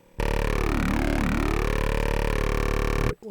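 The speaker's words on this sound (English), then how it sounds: "distortion of that talking robot man" A buzzy, distorted robotic voice from a Spire synthesizer drones steadily, its pitch swooping down and up twice midway before cutting off abruptly.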